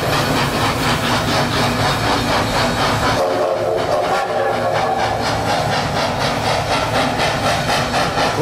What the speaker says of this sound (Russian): Вот слушайтесь, пожалуйста. Курьерский поезд.